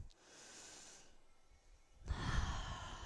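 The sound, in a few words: breathing during chair yoga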